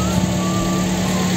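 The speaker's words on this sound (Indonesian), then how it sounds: "Terus suara mesin juga enak." Engine of a Toyota Vios Limo, an ex-taxi sedan, idling: a loud, steady, close-up drone with a constant low hum and no change across the brief moment.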